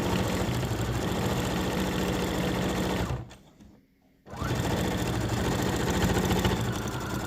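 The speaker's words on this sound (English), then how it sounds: "we're going to turn it over and we're going to do the other side. And we're just going to sew straight down." A sewing machine stitches a fabric mask straight down a side in two continuous rapid runs of needle chatter, separated by a short pause near the middle.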